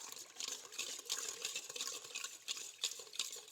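A whisk stirring bread starter dough in a bowl, a close, rhythmic wet swishing and scraping with regular strokes, quiet and alone.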